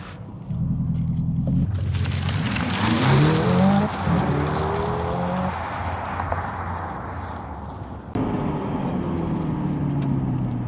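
A 2025 Hyundai Ioniq 5 N electric car launches hard, with a loud rising synthetic engine-like tone and deep rumble. Tires squeal, then a second surge follows after a brief dip, close and with no talking.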